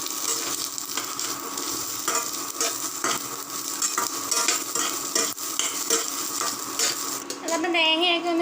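Grated coconut, ginger, shallots and black pepper roast in a pan while a spoon stirs steadily, giving a close, continuous dry sizzle with scraping against the pan.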